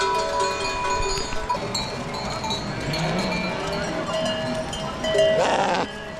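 A flock of sheep bleats on a highland summer pasture, with many overlapping calls near and far, a steady outdoor bustle and cowbell-like clanks, loudest near the end.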